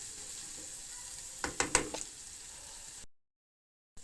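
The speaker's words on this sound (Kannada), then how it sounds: "ಈಗ ಚೂರು ಇದು ಈರುಳ್ಳಿ ಎಲ್ಲ ಕಂದು ಬಣ್ಣಕ್ಕೆ ತಿರುಗೋವರೆಗೂ ಇದನ್ನು ಈ ರೀತಿ" Onions and vegetables fry in a pan with a low, even sizzle, broken midway by a short cluster of louder stirring scrapes, before the sound cuts to silence near the end.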